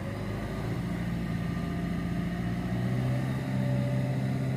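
A car engine runs steadily during an alternator test, held at about 2000 rpm, with a constant close mechanical hum that rises slightly toward the end.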